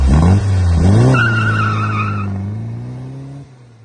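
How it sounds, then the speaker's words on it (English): A car does a burnout as its engine revs high and its tires squeal loudly, then the revs drop and the sound fades into a falling engine drone. "Like the burnout video right here."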